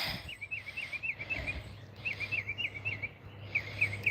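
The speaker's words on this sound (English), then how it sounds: "Love listening to the birds and breathing the fresh air." Birds sing in a quiet backyard garden, with bright repeated chirping phrases in short bursts over a low steady background hum.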